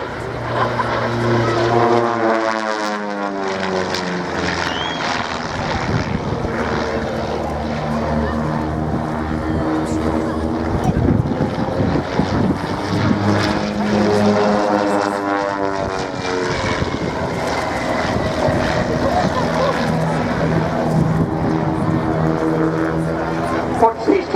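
Two Pitts S1D aerobatic biplanes, small propeller planes, roar past overhead at an airshow, their engine pitch sweeping up and down as they pass, with a commentator talking over the noise throughout.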